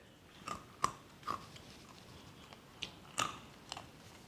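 Crispy fried peanuts are bitten and chewed close up: quiet, scattered crunches with short pauses between them, with no talking.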